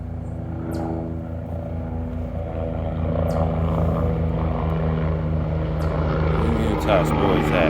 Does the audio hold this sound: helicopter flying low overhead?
yes